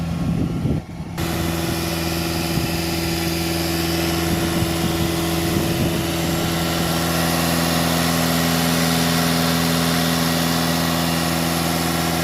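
A 2.0 TDI diesel engine in an Audi A6 idles steadily after a brief rough moment at the start, with a constant low hum and a few clear tones that stay even and close.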